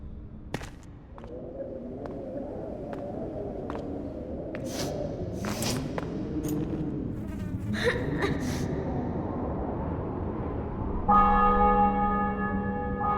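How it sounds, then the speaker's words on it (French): Bell tones ring out near the end, sustained and resonant, following a stretch of low murmuring voices and scattered clatter. "Le son des cloches."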